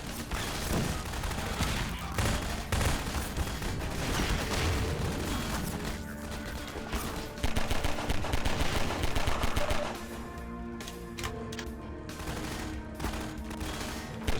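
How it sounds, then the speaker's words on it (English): Sustained gunfire in Half-Life 2 Episode One, with dense, continuous bursts of automatic fire and heavier booms that stay loud and close over the whole stretch, with only slight pauses near the end. "I need to shoot these guys."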